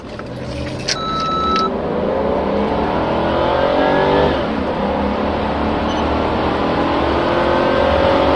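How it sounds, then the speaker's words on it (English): A Mercedes 560 SEC pulls away from a standstill in drive, its engine note climbing steadily in pitch through the gears as it accelerates, loud and close from start to finish, with a brief electronic beep near the beginning. "So we should see if it will shift from off first gear and how good the acceleration will be."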